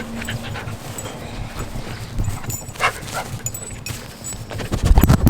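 A dog panting and mouthing a microphone up close, with irregular soft breathy huffs, snuffling and handling bumps that grow louder and rougher toward the end.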